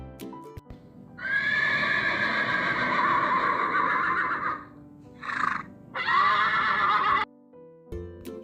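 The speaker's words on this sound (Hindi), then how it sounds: "ये है घोड़ा, जिसे हम इंग्लिश में बोलते हैं हॉर्स" A horse gives a long, loud neigh close by, then a short break, a brief squeal and a second drawn-out whinny, ending with a faint clop or thud.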